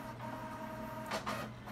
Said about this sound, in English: sorry for the loud printer noises